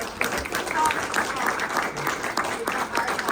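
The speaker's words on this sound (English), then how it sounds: "I think we should give a round of applause." An audience at an author convention panel in Smyrna, Tennessee applauds at moderate volume. The clapping is steady and dense for a few seconds, with some voices mixed in.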